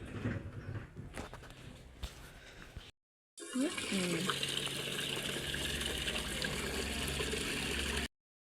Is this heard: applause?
no